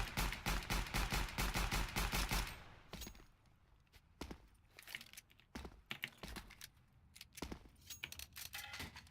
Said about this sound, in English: I think the new pistol sounds are alright